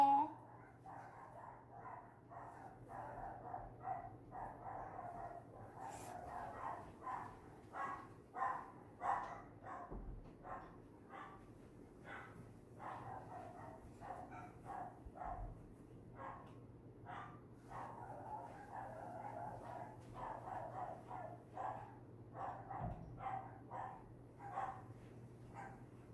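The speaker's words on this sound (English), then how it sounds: "I heard my dog's barking" A dog barks repeatedly in short, rhythmic bursts from another room, heard indoors during an after-school painting session while people talk over it.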